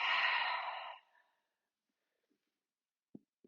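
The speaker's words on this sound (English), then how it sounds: "Open up your mouth, breathe out." A single long, breathy exhale through an open mouth during a yoga session, close and soft, trailing off after about a second. A couple of faint small clicks follow in near silence.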